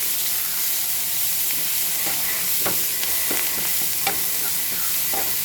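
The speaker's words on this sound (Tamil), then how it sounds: "இது அப்படியே கொஞ்சம் நேரம் ஃப்ரை பண்ணுவோம்" Small sambar onions fry in hot oil, a constant bright sizzle with scattered crackles and pops, a few sharper spits standing out near the end, close and without voices.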